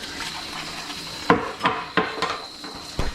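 Dishes are washed after cooking morning eggs, with a series of sharp clinks and clatters of dishware knocking together, spaced irregularly and close by over a low hiss of running water.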